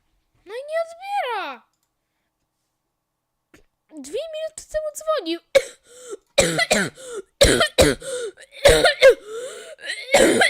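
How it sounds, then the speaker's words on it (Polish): A child coughs and clears their throat repeatedly in a bedroom, the harsh bursts growing denser and louder toward the end, with a voice heard near the start. "Bo tak kaszle."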